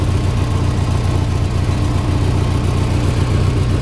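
Old pickup truck engine running close and loud, a steady low chugging idle with an uneven, slightly lumpy pulse throughout.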